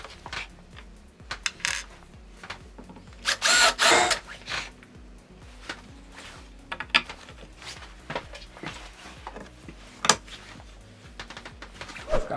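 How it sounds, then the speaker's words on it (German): Forstner drill bit countersinking screw holes in wood, with short bursts of drilling and scattered clicks and clatters of tools, plus one louder whirring stretch near the middle. "auf der Gegenseite werde ich es mit dem Forstnerbohrer ein bisschen senken, um die Schraubenköpfe"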